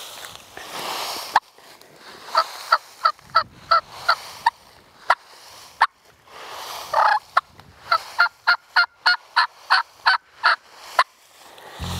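Wild turkey answering in the woods during spring turkey hunting, with a few fast gobbling bursts between a long series of sharp repeated clucks and calls, fairly close and without any talking.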